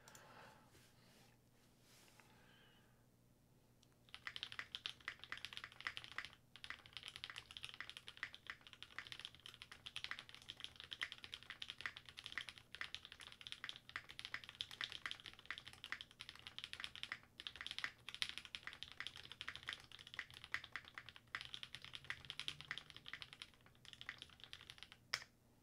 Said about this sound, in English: Here, let's do another typing test.